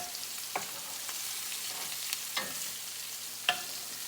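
Whiting fish pan frying in hot oil, a steady soft sizzle running throughout with a few faint taps and clicks of a utensil against the pan, close and alone without talk.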